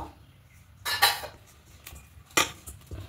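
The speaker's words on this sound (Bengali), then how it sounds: "এবার ঢাকাটা খুলে নেব।" A lid lifted off a cooking pot while making cheese paratha, with two brief metallic clanks and scrapes close by over a quiet background.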